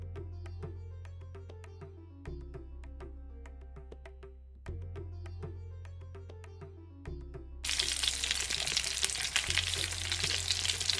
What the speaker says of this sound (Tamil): நம்ம வச்ச எண்ணெய் சுட்டுடுத்து நம்ம இந்த ஸ்டஃப் பண்ணி வச்சுருக்கிற கத்திரிக்காய் இருக்குல்ல,